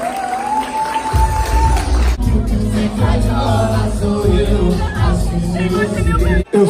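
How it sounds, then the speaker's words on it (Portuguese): Lively party crowd at a festive celebration, with clapping, cheering and loud hubbub mixed with voices shouting over it, continuous and close throughout. "E os aplausos!"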